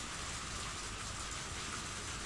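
Steady rain pours in a Higurashi video game scene, a dense, even hiss of falling water that holds at a constant level throughout, fairly quiet and with no voices.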